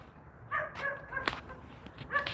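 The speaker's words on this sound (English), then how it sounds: "Shut up, stupid dog." A dog barks in short, yappy bursts, a few sharp barks and whimpering yips spread over a couple of seconds at moderate distance, with no talking.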